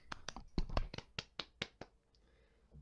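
Podcast hosts clap their hands in a short, close burst of about half a dozen sharp claps, with a voice mixed in at the start.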